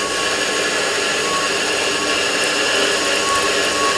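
A Warco WM180 metal lathe with a variable-speed motor runs steadily while grooving a workpiece, a loud continuous whine and hiss with no chatter and no speech.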